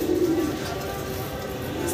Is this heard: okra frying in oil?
no